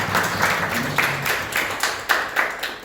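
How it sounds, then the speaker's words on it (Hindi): A church congregation claps together in praise, a dense, steady patter of many hands filling the room at moderate loudness with no voices over it. "जोरदार तालियां परमेश्वर"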